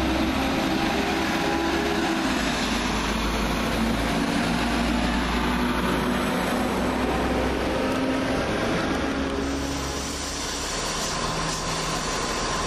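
A British Rail Class 172 diesel multiple unit, 172217, runs loudly close by at Birmingham Moor Street station, a sustained rumbling diesel engine drone with a steady whine, easing slightly toward the end, with no talking.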